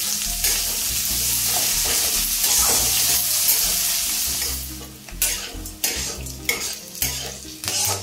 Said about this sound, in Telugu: ఈ కొద్దిగా ఫ్రై అయిన తర్వాత ఉల్లిపాయ, పచ్చిమిర్చి, కరివేపాకు,